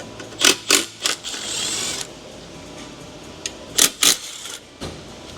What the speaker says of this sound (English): Get these two bolts out.